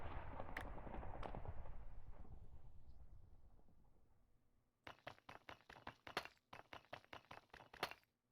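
Explosions in Minecraft, a fast run of sharp, loud bursts crowded into the last few seconds, coming after a fading rumble and a couple of isolated cracks.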